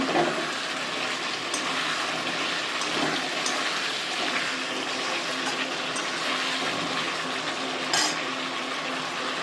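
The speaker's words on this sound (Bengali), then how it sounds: "এবার আমি ঝোলের মতো জল দিয়ে দিলাম" Water poured into a pan of potato curry after the potatoes were fried with spices, a steady splashing, rain-like wash heard close and fairly loud throughout, with no talking.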